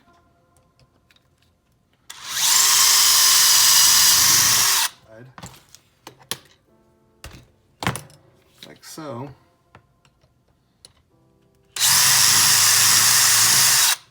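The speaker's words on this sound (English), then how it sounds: "Kind of just move the drill back and forth a few times." A power drill whirs loudly through a shock standoff in two bursts, separated by clicks and handling noises, with someone briefly speaking between them.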